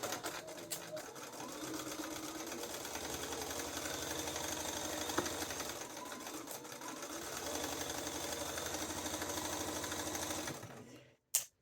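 A sewing machine stitches the inseam pocket of a duster coat, running in a long, steady mechanical hum with rapid needle chatter, briefly easing in the middle, then stopping near the end with a final click.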